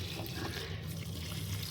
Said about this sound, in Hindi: डालूँगी मैं थोड़ा थोड़ा पानी हर गमलों में, जो कि बहुत ज़्यादा सूख रहे थे।